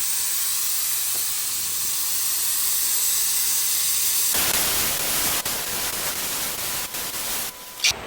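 Etch primer spray-painted onto an aluminium tinny boat hull: a continuous loud hissing spray with one steady pass, then a harsher, fuller blast for the second half, broken by brief pauses.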